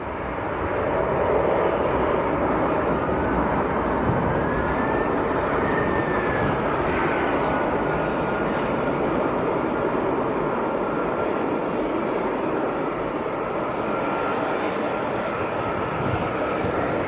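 A passenger jet lands at Leeds Bradford Airport after a flight from Zakynthos, a broad steady roar of engines and rushing air held at even loudness, heard from a distance outdoors with no talking.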